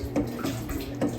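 Maple sap pours from taps at a Vermont sugarbush on a warm day, a steady trickling, splashing flow with a few brief louder splashes, close by and with no one speaking.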